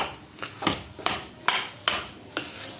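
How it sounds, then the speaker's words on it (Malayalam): Metal spoon stirring rava kesari, semolina with sugar, in a pan, giving a series of sharp scraping clinks at an irregular steady pace, close and fairly quiet with no talk. "ആദ്യം കുറച്ച് പഞ്ചസാര ഇട്ട് ഒന്ന് നമുക്കൊന്ന് ഇളക്കി കൊടുക്കാം"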